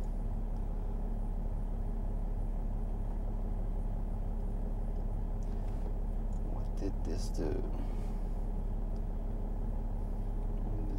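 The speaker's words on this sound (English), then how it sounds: "idle engine" A 2009 Mercedes E320 Bluetec diesel with a boost problem idles in a steady, close low rumble that runs throughout, while a person talks over it.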